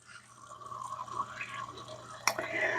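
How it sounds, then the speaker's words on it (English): Water pouring from a tap into an enamel cast iron pot, close and fairly quiet, with a rising filling sound and a sharp clank partway through. "Now we'll fill back up with water"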